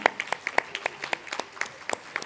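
Audience applause after a talk at an International Women's Entrepreneurship Day event, heard as sparse, distinct claps from a small group, irregular and fairly close, with no voices over them.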